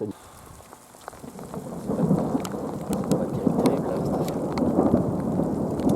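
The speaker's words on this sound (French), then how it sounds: "la pluie commence à tomber malheureusement" Steady rain pours down with dense pattering, while rolls of thunder rumble low underneath and build slightly.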